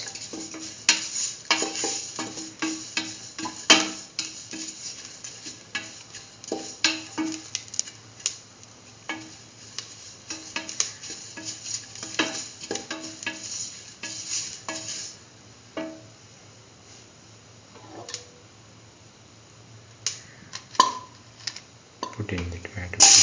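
Fenugreek leaves sautéing with garlic, ginger and shallots for mustard lentil rice: a soft steady sizzle under repeated clattering stirs and scrapes of a utensil in the pan, close and moderately loud throughout.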